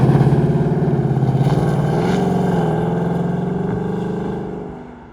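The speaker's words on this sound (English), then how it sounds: "with the sound of that engine and some wind in your hair" A 2024 Ford Mustang 5.0 GT V8 convertible being driven with the roof down, its engine giving a steady loud rumbling drone that stays close and gradually eases off toward the end.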